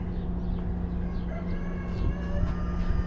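A rooster crows several times at a distance outdoors, its calls rising and falling over a steady low background hum, with no talking.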